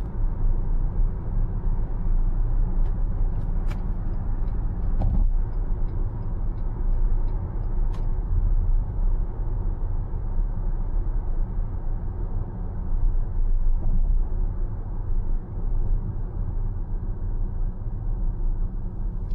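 A restyled Suzuki Across hybrid cruises on a motorway at night, giving a steady, unbroken drone of road and tyre noise with a deep low rumble, and a few faint clicks near the start.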